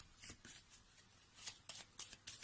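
Angel oracle cards being shuffled by hand in a series of short, crisp riffling bursts with brief pauses between them, close and fairly quiet, with no talking.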